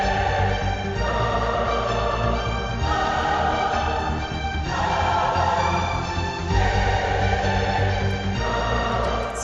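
Epic trailer music sketch with a sustained choir, deep low end and a higher melodic line in an upper register, dense and loud throughout with slow chord changes every couple of seconds.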